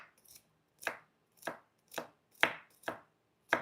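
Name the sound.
knife chopping through onion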